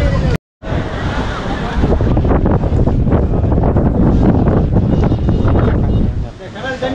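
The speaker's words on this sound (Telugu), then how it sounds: "చూసారా గాలి ఎట్లా వస్తుందో, ఫుల్ అలలు ఉన్నాయి" Strong wind buffets the microphone in a steady roar over crashing ocean waves on Dhanushkodi beach, loud and continuous, with only a brief dropout near the start.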